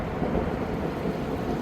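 Thunderstorm with rain, a low rolling rumble under a steady wash of rainfall, fairly quiet and continuous over the short stretch, no voices.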